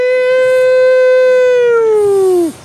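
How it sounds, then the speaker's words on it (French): A real 100 dB siren blares at an art conference, one loud sustained wailing tone that holds steady, then slides down and cuts off abruptly. "C'est les vraies sirènes 100 dB."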